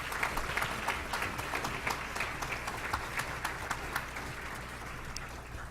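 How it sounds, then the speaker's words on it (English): Audience applause at a city's State of the City address, steady clapping from a crowd over a low hum, sustained for several seconds. "Let's give them a round of applause, can we please?"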